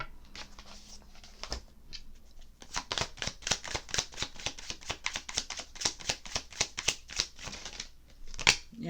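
Tarot cards riffle and snap through a shuffle in a quick, steady run of sharp papery flicks, close up, after a brief pause at the start and with no talk over them.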